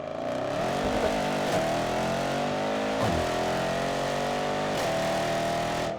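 A tuned 779 hp Mercedes-AMG E63 S engine roars continuously while accelerating in race mode, climbing in pitch through gears with brief shift breaks; loud and close, no talking.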